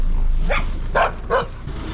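Three sharp dog barks, roughly evenly spaced about half a second apart, fairly close and loud over a low background hum.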